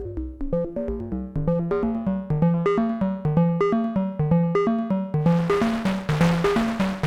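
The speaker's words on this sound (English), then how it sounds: "This is with some noise." Moog Labyrinth synthesizer sequence with noise blended in: bright repeating pitched notes in a steady rhythm, alone and fairly loud, with a hissy noise layer swelling up in the last couple of seconds.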